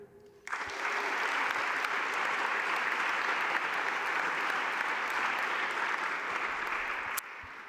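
Conference audience at a teaching and learning award session breaks into sustained applause for a nominee, a dense even wall of clapping that starts abruptly and holds steady for about seven seconds before cutting off.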